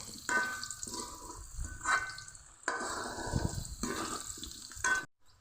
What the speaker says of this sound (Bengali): এখন আলু দিয়ে দিব আলু ভাজলে খুব সুন্দর একটা কালার আসবে আলুর মধ্যে